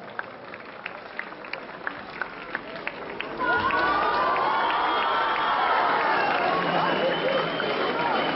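At an awards ceremony at the Midyat culture and arts festival, scattered claps give way to a loud, sustained burst of crowd cheering and applause with shrill whistles and shouts.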